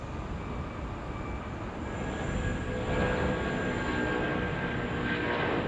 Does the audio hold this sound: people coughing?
no